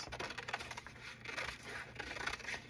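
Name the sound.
scissors cutting paper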